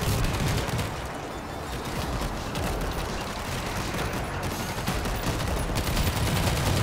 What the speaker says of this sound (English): Keep shooting until nothing moves.